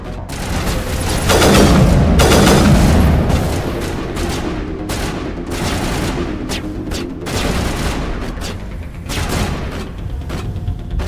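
Gunfire in Mass Effect Legendary with a sniper rifle: loud, dense bursts of shots crackling almost continuously, with heavier booms near the start and sharp repeated cracks throughout.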